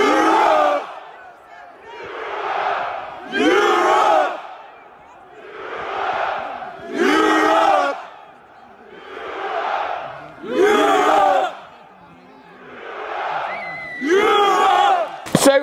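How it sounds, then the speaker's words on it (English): Big Ryder Cup golf crowd being roused by marshals, roaring chant-like swells that rise and fall in a steady rhythm about every two seconds, loud and continuous. "I took this of the crowds being drummed up by the marshals"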